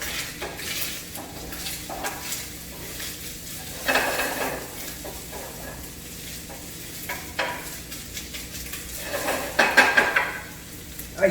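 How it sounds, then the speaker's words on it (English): Turkey bacon sizzling in a pan while being stirred, with a steady close crackle and clustered bursts of utensil scraping against the pan, louder toward the end, and no talk. "So this turkey bacon crisps up and cooks really fast. So I'm just going to give it a quick stir."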